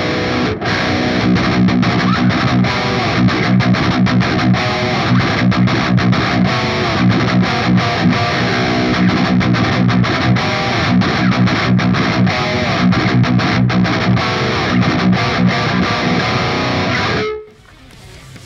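Electric guitar played through a distortion preset on a Line 6 POD HD 500 multi-effects unit, a loud, dense, continuous crunchy tone with chord strums that cuts off abruptly near the end.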